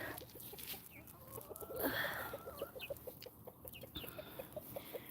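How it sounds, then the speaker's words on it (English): Backyard chickens including a rooster cluck in a quick, regular series of short calls, close and fairly quiet, with one louder squawk partway through and soft morning background. "I thought this one chicken was a hen, but he got a little friendly with another hen this morning, so I'm like, dang it, it's not a hen, it's a rooster"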